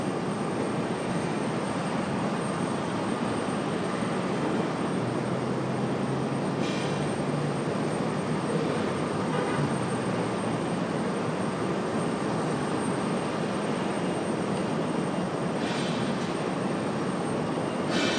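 A jet airliner on the takeoff roll from runway 23 right at Raleigh-Durham airport, a steady, broad engine roar that holds strong and loud throughout with no voices.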